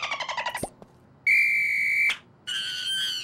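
Failed breathy attempts give way to two sustained, loud whistled tones, each held about a second with a short gap between.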